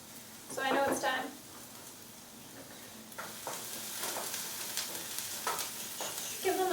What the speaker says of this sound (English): you can probably throw the garlic into the pan with the onions